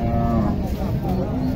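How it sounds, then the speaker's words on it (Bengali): A Sahiwal bull calf moos loudly and close at a village cattle market in Naogaon, its drawn-out lowing calls sounding over steady crowd murmur. "এখানে একটি দেখেন ষাঁড় বাচ্চা শাহিওয়াল"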